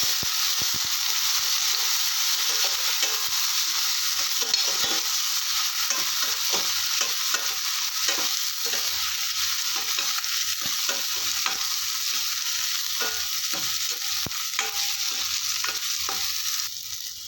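Tomato and curry leaves sizzle steadily in a hot pan for radish sambar, with a constant frying hiss and light stirring scrapes throughout.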